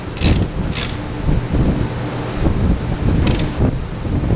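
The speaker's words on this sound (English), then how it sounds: "Found my socket wrench." A socket wrench ratchets while tightening a spark plug on a 2009 Ford Escape 3.0 V6, with short bursts of rapid clicking separated by pauses over faint mechanical handling noise.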